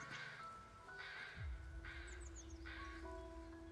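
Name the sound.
bird in the video game Where Winds Meet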